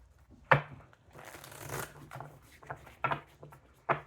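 Tarot cards being shuffled by hand, a few crisp riffles and sliding rustles close by, with sharp snaps between quieter handling.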